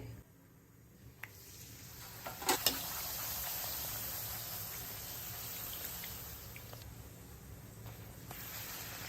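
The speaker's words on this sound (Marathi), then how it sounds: "की दुसऱ्या बाजूने एकदा तळून घ्यायची" Wheat-flour puri fries in hot oil with a faint, steady hiss of bubbling oil throughout, broken by a few soft clicks and ticks early on.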